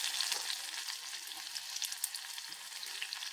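Cumin, mustard seeds and onions fry in hot oil for a curry, giving a steady close sizzle with light crackles and occasional stirring, without any voices.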